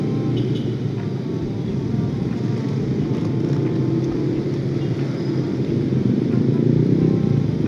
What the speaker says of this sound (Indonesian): Ada suara moge, oi.